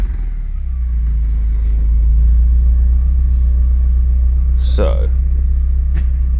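A Porsche 944 engine with a doubtful clutch rumbles up close and stays loud and steady, while a person speaks briefly over it and a short squeal sounds near the end.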